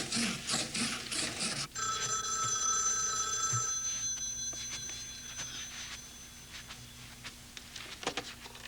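A telephone rings through the handset after a number is dialed, heard as a steady, repeating electronic ring tone in a 1986 film scene, with some room noise and no talk.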